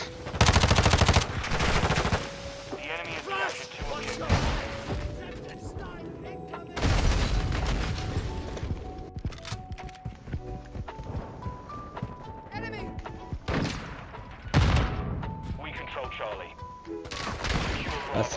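Gunfire in a Call of Duty Modern Warfare 2 multiplayer match with the Lachmann Sub, loud repeated bursts of automatic fire and shots amid game music and effects, with a voice talking over parts of it.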